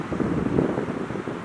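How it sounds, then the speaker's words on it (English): Steady wind blows across a lake island in the Canadian wilderness, a loud continuous low rumble of gusts buffeting the microphone with no pauses. "That's windy."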